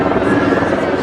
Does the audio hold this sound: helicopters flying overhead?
yes